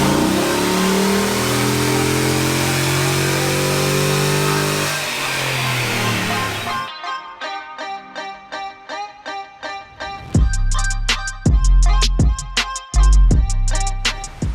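A GMC Sierra truck with a 6.2 engine, Texas Speed long-tube headers and Y-pipe, running flex fuel on a dyno: a sustained loud roar winds down, then a series of sharp, punchy revs and blips follow, close and alone.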